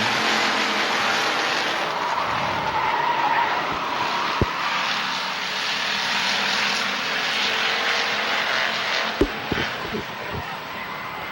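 Hobby stock race cars roaring around an oval at Hawkeye Downs Speedway, a dense continuous engine drone that holds loud for the whole stretch with a few brief knocks and thuds.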